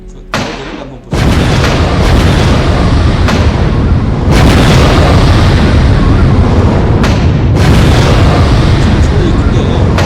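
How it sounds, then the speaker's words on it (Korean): Loud bomb explosion effect from a Unity shell-firing artillery game, heavy booming blasts repeating across the clip, with a sharp onset after a brief quieter start and dense sustained rumble afterward. "폭탄이 폭발할 때는 펑 소리가 나도록 구성을 해줬습니다"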